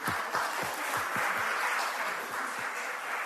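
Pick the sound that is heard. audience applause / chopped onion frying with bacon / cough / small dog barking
audience applause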